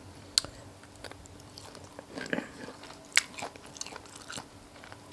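Crunchy bites and wet chewing from someone eating long bean som tam with grilled pork, close and quiet, with sharp crunches spaced irregularly over steady mouth sounds and no talk.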